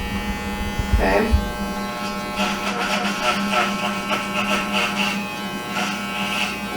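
An electric hair clipper buzzes steadily during a crewcut and fade haircut, a close, continuous hum with short pulses as it moves through the hair, while a person talks over it.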